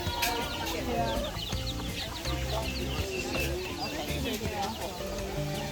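Chickens clucking outdoors on Kauai during a tram tour, busy overlapping clucks and calls from several birds, fairly close, with people talking over them.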